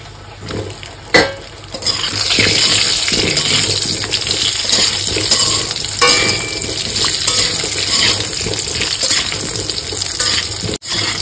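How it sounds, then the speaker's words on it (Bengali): Diced potatoes are dropped into hot oil with fried cumin and bay leaf and stirred, giving a loud, steady, close sizzle with scraping and clattering against the pan. "এবার আমি ডুমো ডুমো করে কেটে রাখা আলু দিয়ে দেবো।"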